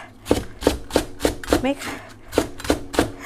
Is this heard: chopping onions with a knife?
yes